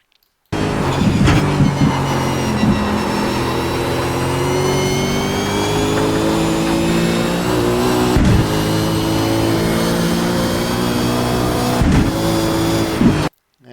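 A race car lapping the Brands Hatch circuit, its engine droning loud and steady for the whole stretch, with pitch rising and falling through gear changes, braking and throttle in corners; no talking.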